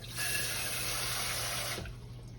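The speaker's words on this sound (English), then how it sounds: "Put a little bit more water in there, but you know them beans gonna kind of soak up some water." Tap water runs steadily into a pot of red beans on the stove for about two seconds, a close, full rushing splash that cuts off abruptly and leaves only faint room noise.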